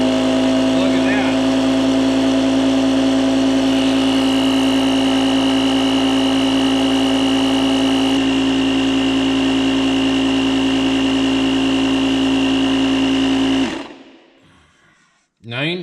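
A portable tire inflator pumps up a tire from low pressure with a loud, steady motorized drone and whine that runs for about fourteen seconds, then cuts off abruptly.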